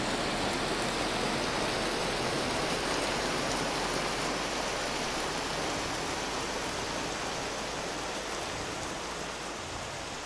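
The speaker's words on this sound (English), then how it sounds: "I'm taking damage from the hail." Hail falling in the video game Vintage Story, a dense, steady hiss of pattering ice that stays loud and unbroken for about ten seconds with no talking.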